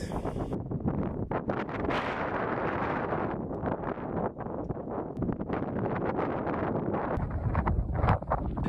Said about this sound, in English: the wind was starting to pick up